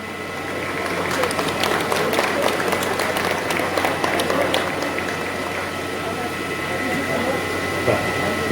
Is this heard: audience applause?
yes